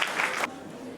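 A brief burst of audience applause at a colloquium on sub-Saharan immigration to Europe, loud and dense for about half a second, then cutting off into quiet room tone.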